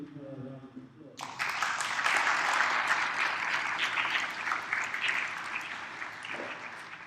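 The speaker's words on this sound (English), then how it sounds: "So I'd like to give her a round of applause." An audience at a tertiary-level debate final claps for a team member, the applause bursting in after a short spoken line and holding steady and dense for about six seconds.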